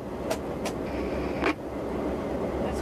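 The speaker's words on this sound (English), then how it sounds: "That's rail cars." Freight rail cars roll past a BNSF locomotive cab on the line from Kansas City toward Chicago, a steady loud rumble broken by sharp clanks and squeals.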